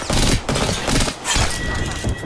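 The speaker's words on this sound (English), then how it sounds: "I am taking fire." Video-game gunfire in a shooter, loud overlapping bursts of shots and impacts filling the whole stretch nearly without pause, close and harsh.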